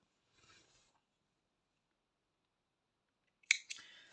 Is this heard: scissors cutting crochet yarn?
yes